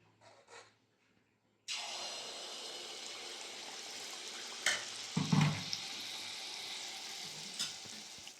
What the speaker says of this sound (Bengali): কড়াই বসিয়ে সাদা তেল দিয়ে দিয়েছি তেল গরম হয়ে গেছে ব্যাটারটা দিয়ে দেবো